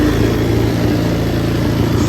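A Sportquad ATV engine fitted with a Mikuni carburetor runs steadily at high, over-revved speed, a loud continuous droning hum that holds for about two seconds without pause.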